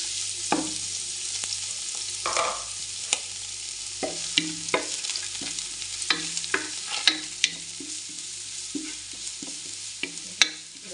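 Garlic dropped into hot cooking oil for Filipino-style spaghetti, fried until dark brown: a steady sizzle with repeated scrape-and-clack stirring strokes, close and alone with no talk.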